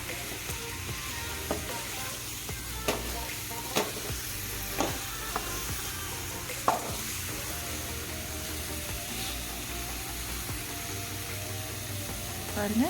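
Lime pickle cooking in a pan on the stove, a soft continuous sizzle with occasional stirring clicks and scrapes, fairly quiet throughout.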